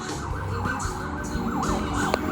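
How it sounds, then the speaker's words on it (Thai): A wailing siren sweeps up and down steadily for a couple of seconds, loud and fairly close, with traffic rumble underneath. "แล้วมีเสียงไซเรน"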